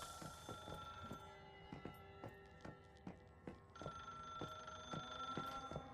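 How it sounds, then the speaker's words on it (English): A telephone bell ringing inside the survival game Once Human, a fast, steady series of sharp metallic strikes that continues quietly throughout, with nobody talking. "Why am I hearing a phone ring?"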